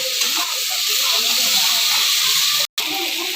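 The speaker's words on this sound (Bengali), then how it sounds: "দেখো, কুমড়ো আলুটা আমার কষানো কষানো হয়ে গেছে।" Pumpkin and potato chunks sautéing in a hot pan give a steady, close sizzling hiss throughout, with one brief cutout near the end.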